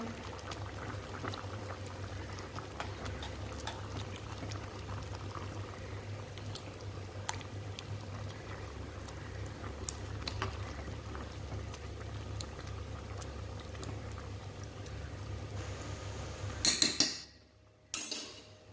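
Cooked lentils for sambar stirred in a pot, a continuous low bubbling simmer with scattered faint utensil clinks, ending in a couple of louder knocks against the pot.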